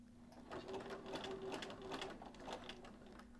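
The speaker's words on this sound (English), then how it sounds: "I'm going to be using a zigzag stitch for this" A sewing machine runs a steady zigzag stitch, attaching elastic to swimsuit fabric, its motor humming continuously with a quick rhythmic needle clatter, close and fairly quiet, with no talking.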